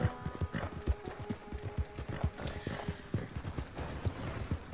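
Horse hooves clip-clop in Red Dead Redemption 2, a steady trotting rhythm of close, thudding footfalls with faint creaks over a soft ambient background.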